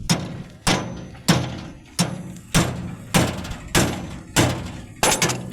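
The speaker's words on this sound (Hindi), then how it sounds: "इसके बाद अब इसको हथौड़ी से हल्का हल्का ठोकेंगे।" A hammer strikes an e-rickshaw wheel hub nine times in an even rhythm, each blow a loud, close metallic knock with a short ringing decay.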